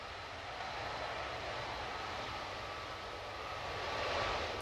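A jet airliner engine runs steadily on a remote part of an airfield after its idling speed was adjusted, a constant broad roaring drone at moderate distance that swells slightly toward the end.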